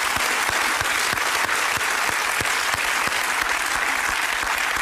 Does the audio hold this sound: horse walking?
no